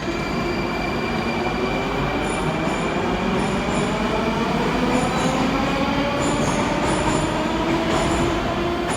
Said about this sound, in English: Take our chances and go on the metro.